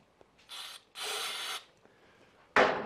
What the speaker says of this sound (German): Wir sprühen jetzt mal ein bisschen Bremsenreiniger in den Brennraum rein.